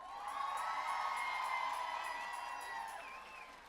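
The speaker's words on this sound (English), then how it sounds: "So I ask that you give yourself a round of applause." A crowd at the 2018 Women's March rally cheers and whoops in a sustained swell lasting several seconds, heard from a moderate distance and fading slightly toward the end.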